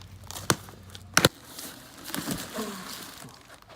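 A delivered package holding a car turbocharger is cut open: two sharp, close snaps, then crinkling and tearing of packing material, all fairly quiet, with no talking.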